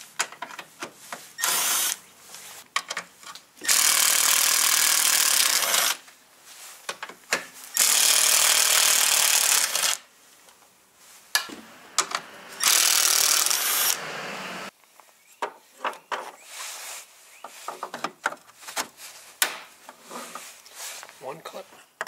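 Power tool with a 10mm socket removing grille bolts on a Dodge Ram 1500 Outdoorsman, loud sustained whirring bursts of several seconds each, separated by handling clatter and someone talking nearby.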